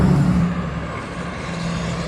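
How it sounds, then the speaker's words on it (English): A vehicle's engine and tire roar sweeps by nearby, loud at first and then settling into a steady road rumble. "Can't hear nothing when cars go by."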